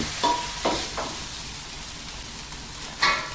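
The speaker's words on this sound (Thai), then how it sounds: "น้ำปลาสักหน่อยหนึ่ง ผัดให้เข้ากันนะครับ ผัดคลุกคลุกให้แห้ง" Eggs stir-fried with canned fish and fish sauce sizzle steadily in a hot pan, punctuated by a few sharp scrapes of the spatula as the mixture is tossed.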